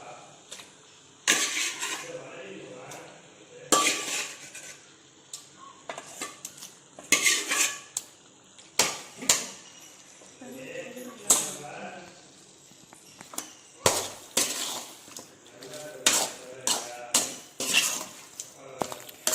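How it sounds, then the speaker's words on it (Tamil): Chicken and masala stir-fry in a pan, with repeated clanks and scrapes of a utensil against metal in irregular bursts and a low frying hiss underneath. "இந்த மசாலாவோட சிக்கன் சாடுற அளவு நல்லா வதக்கிக்கலாம்"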